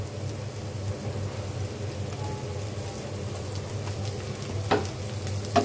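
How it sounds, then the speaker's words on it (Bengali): Oil poured into a pan to cook a bhuna of dried taki fish, giving a steady, soft sizzle and crackle with a few sharper pops near the end and no talk. "এই পর্যায়ে দিয়ে দেবো তেল।"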